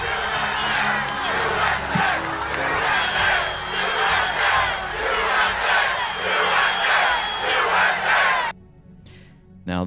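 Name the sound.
crowd standing up and screaming USA at a Trump rally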